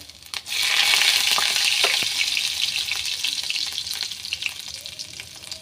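Chopped ginger and garlic hit hot oil with a sudden loud crackling sizzle that starts after a brief clatter and stays strong, slowly easing over several seconds.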